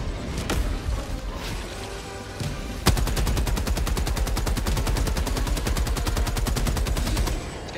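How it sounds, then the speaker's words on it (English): Heavy machine gun fire in Helldivers 2, with a few scattered shots followed by a long, steady, rapid burst of evenly spaced rounds, loud and close and nearly alone. "I'm gonna shoot this bile type with the HMG, dude"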